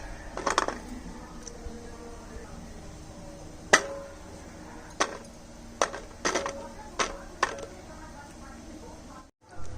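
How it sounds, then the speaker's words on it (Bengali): A knife chops tender drumstick (sajna) stems into small pieces on a board in a home kitchen, giving sharp, irregular single knocks spread across the stretch over a quiet background. "এইভাবে ছোট ছোট করে কেটে নিচ্ছি"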